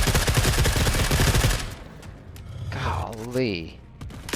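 Rapid automatic gunfire bursts loudly from a weapon in The Forever Winter shooter game, a dense rattling stretch in the first second and a half, then quieter game sounds and someone talking.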